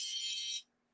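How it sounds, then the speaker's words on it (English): A phone alarm sounds alone for about half a second, a bright electronic tone that then cuts off abruptly, leaving near silence. "That's my alarm to eat again."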